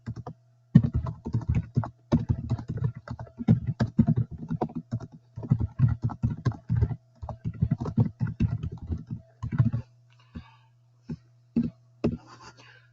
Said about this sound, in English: I will just type something really quickly.